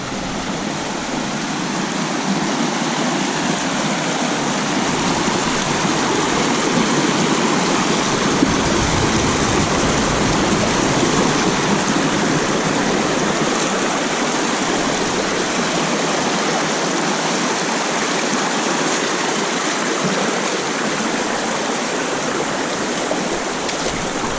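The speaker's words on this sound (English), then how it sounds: "The creek that's coming out behind this thing is absolutely beautiful." Steady rushing water of a flowing creek by a campsite on the French River, continuous and close, with a broad even wash of sound and no voices.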